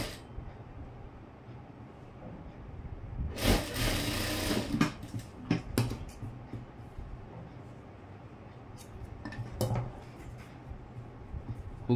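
A sewing machine stitches a blouse hook strip in a short whirring burst of about a second, followed by light clicks and handling noises, with no talk.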